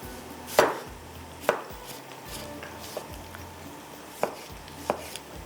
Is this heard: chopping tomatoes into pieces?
yes